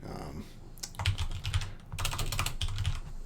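Keystrokes tapping on a computer keyboard in clustered bursts, heard close and moderately loud beneath someone talking.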